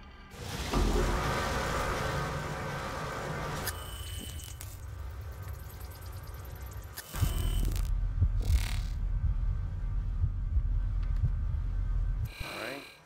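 Washing machines running in a laundry room in the game Observer: a steady mechanical hum with rattling, ratcheting clanks and a louder grinding churn that rises midway, close and continuous, with faint speech-like bits mixed in.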